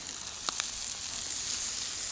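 Hamburgers cooking on an outdoor Blackstone griddle give off a steady, close sizzle with a couple of faint metallic clicks early on, and no one speaks.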